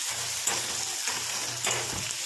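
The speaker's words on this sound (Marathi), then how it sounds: "इकडं कांदा पण भाजत आला, पूर्ण भाजलेला आहे आता" Onion roasting in a pan until fully charred, a steady close sizzle and crackle with occasional scraping stirs, no voices over it.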